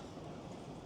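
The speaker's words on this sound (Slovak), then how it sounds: "už nám prichádza vlak" A train pulling in at night in Dublin makes a faint, steady rumble of wheels on rails, heard briefly at a distance with no one speaking.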